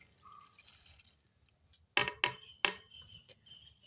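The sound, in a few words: mixture poured into a vessel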